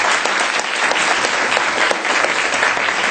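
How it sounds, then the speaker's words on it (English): Loud, dense applause from an audience at an education seminar in Hong Kong, many hands clapping steadily and close, with no talk over it. "Once again, a round of applause."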